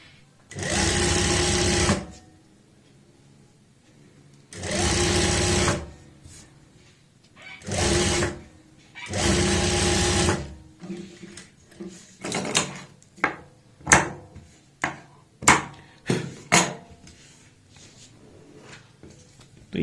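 A sewing machine runs a seam on an angrakha-style kurta in three loud, close bursts of a couple of seconds each, followed by scattered clicks and knocks of fabric and machine handling.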